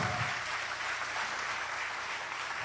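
A church congregation gives sustained applause during a sermon, a uniform, moderately distant wash of clapping with no break.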